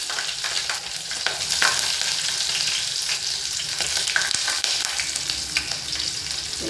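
Split chillies and mustard seeds fry in hot oil for a roasted garlic rasam, giving a steady, dense crackling sizzle with sharp pops, close and fairly loud, with no voices.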